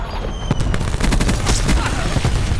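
Rapid automatic fire from the VMP submachine gun in Black Ops 4 on the Nuketown map, PS5, with bursts of shots layered over a busy, loud game mix.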